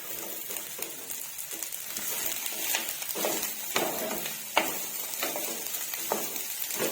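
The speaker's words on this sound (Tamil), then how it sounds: "இப்போ நம்ம ஏற்கனவே அரிஞ்சு வச்சிருந்த அவரைக்காவை வந்து சேர்த்துக்கலாங்க" Chopped broad beans (avarakkai) sautéing in a hot pan, a steady close sizzle and crackle with scraping stir strokes recurring throughout, no talking.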